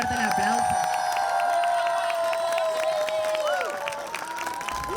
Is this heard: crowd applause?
yes